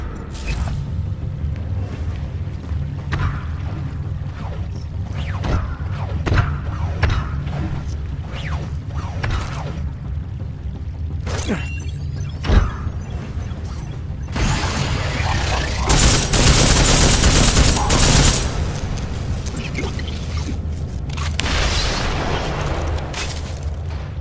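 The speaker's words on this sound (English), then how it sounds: "we'll kick off our attack with an EMP grenade" Combat in Deus Ex: Mankind Divided opens with an EMP grenade, followed by a steady run of game mechanisms, clatter and bursts of gunfire, with a louder, denser stretch of shots and blasts near the middle.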